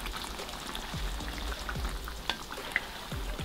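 Grated tomatoes frying in a covered pan, giving a soft, steady sizzle with faint crackles and a couple of sharper pops, fairly quiet and with no voices.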